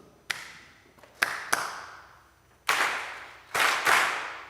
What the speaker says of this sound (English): The soloists and you will do a call and response clap.